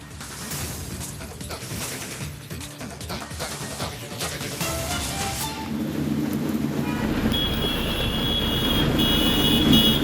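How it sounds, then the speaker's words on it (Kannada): Heavy rain pouring down in Bangalore, a dense hiss that grows louder and fuller over several seconds, with rumbling traffic-like noise beneath. "ಹಲವೆಡೆ ಧಾರಾಕಾರ ಮಳೆಯಾಗಿದೆ"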